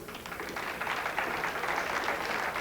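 Audience applause breaking out at a 9-ball pool tournament, a dense continuous patter of clapping that swells slightly and holds steady, heard from a distance across the hall.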